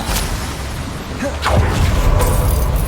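An Incendio fire spell blasts in the Hogwarts Legacy video game: a whooshing surge swells into a deep, rumbling boom that lingers, with a brief voice in the mix.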